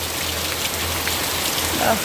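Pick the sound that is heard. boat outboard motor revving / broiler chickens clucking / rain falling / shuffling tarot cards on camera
rain falling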